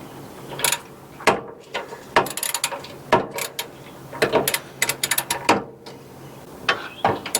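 A wrench ratchets as it turns a 15 mm nut on the master cylinder of a P32 Workhorse chassis, giving close, irregular bursts of sharp metallic clicks and clatter with brief pauses between them.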